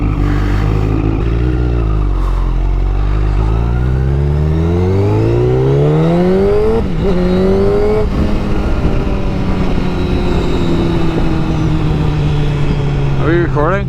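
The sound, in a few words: Honda CBR1000RR motorcycle engine revving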